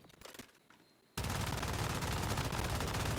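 Rapid sustained MG4 machine gun fire in a video game, aimed at a training dummy, bursting in abruptly after a quiet start and continuing loud and dense to the end.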